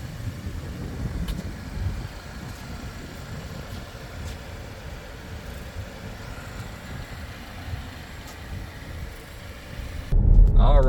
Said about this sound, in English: All right, we're going on a quick test drive here.